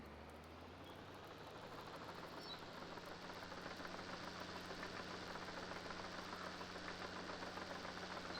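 A Caterpillar crawler tractor's diesel engine runs steadily nearby, a continuous low drone with a faint knocking pulse and no voices.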